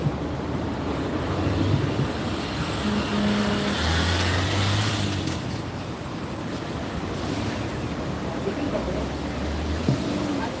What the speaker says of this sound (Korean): 위에 차 소리 때문에 어쨌건 별로 안 돼서 일단 좀 최대한 크게 했습니다.